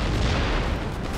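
Artillery fires in Empire Total War, a dense, loud roll of booming blasts that merge into one sustained rumble lasting about a second, heavy and close, with no voices over it.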